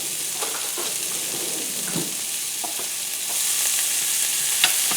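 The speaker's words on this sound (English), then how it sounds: "Get your spoon, stir them around." Garlic browning in a pan and stirred with a spoon for chicken marsala, a continuous close sizzle with soft scraping strokes that grows slightly louder toward the end, without speech.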